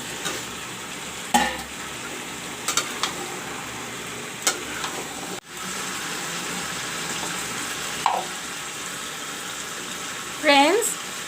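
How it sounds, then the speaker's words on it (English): Chicken and fried potatoes sizzle and fry in a pan for a Bengali chicken curry, a steady low crackle broken by a few brief stirring scrapes and clinks. "you can see the chicken frying along"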